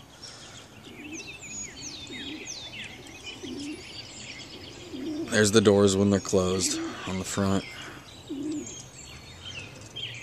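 Racing pigeons cooing in the outdoor aviaries of a backyard loft, soft and steady in the background while someone talks over them.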